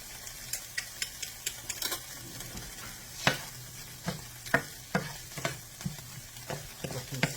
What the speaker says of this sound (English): Stir it up a little bit here.